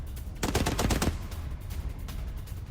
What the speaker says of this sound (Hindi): कैसे इस बिल्डिंग की खिड़की से IRGC का जवान फायरिंग करता दिखाई दे रहा है प्रदर्शनकारियों के ऊपर।